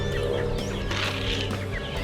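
Free-range chickens cluck and murmur on an open range, a dense, steady chorus of overlapping clucks from several birds close by, with no talk.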